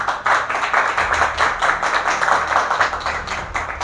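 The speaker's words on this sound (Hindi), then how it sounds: "तो एक बार हम सब मिलकर ताली बजाएंगे परमेश्वर के लिए।" A church congregation claps together for God, a dense steady wash of many hands lasting the whole stretch, fairly close and loud with no voices over it.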